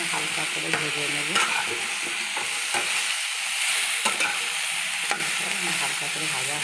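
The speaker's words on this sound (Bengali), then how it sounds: "আমি হালকা করে ভেজে নেব।" Chopped vegetables fry lightly in a pan over a tempering of radhuni and five-spice, giving a steady close sizzle broken by scraping stirs of the spatula, with no voices.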